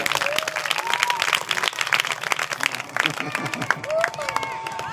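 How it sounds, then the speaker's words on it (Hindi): Loud, vigorous applause from the audience at a Hindu religious discourse, dense clapping filling the hall with a voice speaking over it and crowd noise throughout. "थोड़ा जोरदार तालियां बज जाए"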